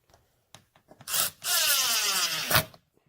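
Power driver spinning 1/2 inch countersunk number 8 screws into door leaf hinges during DIY door assembly, two close bursts of whirring, the second longer and steady, with light handling taps around them.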